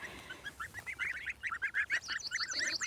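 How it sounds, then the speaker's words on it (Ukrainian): Two-week-old goslings honk and peep in a busy run of short, high calls, several birds overlapping at close range with no one speaking. "Славні гусенятка."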